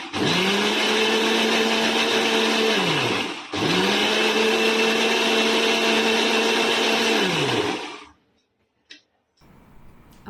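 A kitchen blender whirs loudly while blending a smoothie paste with milk, running in two long bursts separated by a brief pause, then stopping and leaving near silence with a few small knocks.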